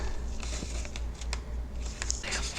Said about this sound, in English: I'm going to run this through my Big Shot, and I'm going to cut my circle right there